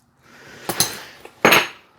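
A metal 20 mm deep well socket handled and set down, a few sharp metallic clinks and clacks, close and brief, with two louder knocks against a hard surface.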